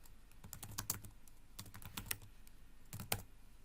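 Quiet typing on a computer keyboard, short bursts of rapid key clicks separated by brief pauses, close and alone with no talking.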